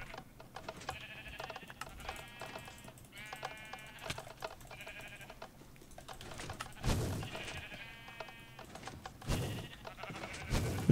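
Repeated bleats from a flock of Minecraft sheep, several overlapping calls in uneven bursts, mixed with clicky block-breaking and tapping game noises and a couple of louder thumps.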